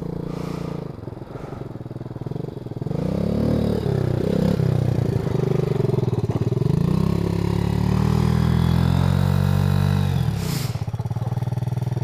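A Yamaha Moto 4 80cc ATV engine revs up outdoors during a wheelie attempt, its motor rising and falling in pitch for several seconds, fairly close and loud, with no one talking over it.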